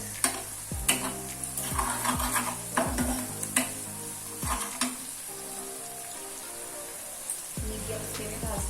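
Chicken drumsticks with chopped ginger and a little sugar fry on a medium flame, crackling and sizzling loudly while a utensil stirs them with repeated scraping clatters and knocks that fade to softer frying.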